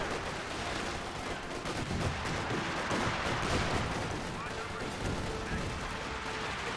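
A .50 cal machine gun firing in the strategy game Company of Heroes 2 amid battle noise, a sustained rattle of shots mixed with distant explosions and a low wash of combat.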